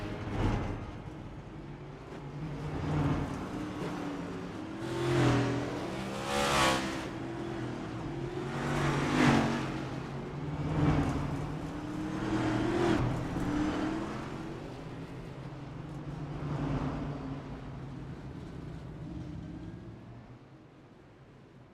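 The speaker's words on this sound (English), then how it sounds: "the pace car gets rolling, and so does Seth Well with your starting grid now getting on the way" Race cars in iRacing roll behind the pace car at the start of the Integrity Octane Series Racing for Breast Cancer 200, giving a steady engine drone that swells and fades in repeated waves.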